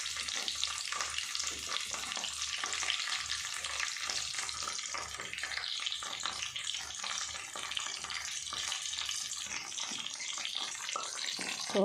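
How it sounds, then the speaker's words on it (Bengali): Potato and cauliflower pieces frying in oil, a bright, continuous crackling sizzle lasting about twelve seconds over a faint pulsing low hum, with no talking. "তো আলু ফুলকপিগুলো আস্তে আস্তে ছাড়ছি তেলের মধ্যে।"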